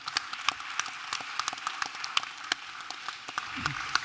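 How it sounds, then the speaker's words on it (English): Audience applause at a Bitcoin conference panel, scattered claps forming a light, steady patter at moderate distance that continues for a few seconds with no voices. "you need to give yourselves a big round of applause"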